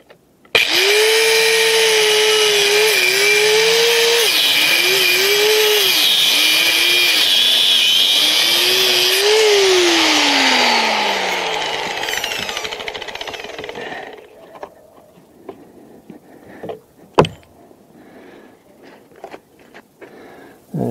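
A Harbor Freight Drill Master 4.5-inch angle grinder with a cutting wheel screams loudly and steadily, its pitch dipping as it bites into metal fasteners, then winds down; a few clanks follow in the quiet.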